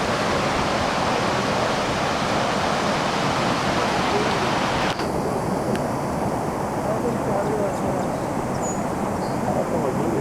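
Steady, loud rush of a waterfall fills the whole clip, a dense broadband roar that barely changes from start to finish.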